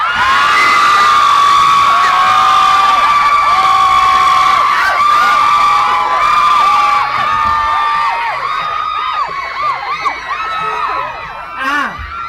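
A large crowd of fans screams and cheers continuously at a contest event, high-pitched shrieks layered into a dense roar that swells and wavers throughout.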